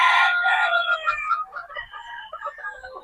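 Boston Black gamefowl roosters crow loudly up close, one long strained call followed by shorter crows and scattered clucks from a flock.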